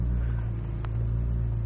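A 2001 BMW M3 with over 200,000 km idles steadily just after a cold start, a low, even engine hum held close and constant throughout, without voices.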